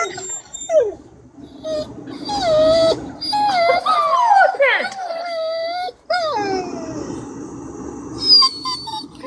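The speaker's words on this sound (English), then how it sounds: "this dog stays pissed off" A dog whimpers and whines in high, wavering cries across several seconds, close and fairly loud, with a person talking over it.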